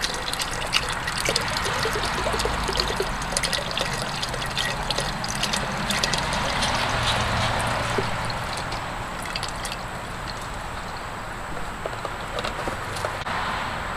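Chicken broth poured into a pot on the stove for simple chicken noodle soup, a steady continuous splashing pour running loud and close for the whole stretch with no talking.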